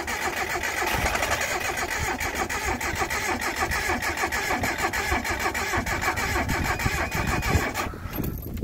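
A Datsun 720 ute engine cranking and catching, then running roughly at a steady mid-pitched idle with a rhythmic chug. It is close and loud for several seconds, with no talk, before cutting off abruptly.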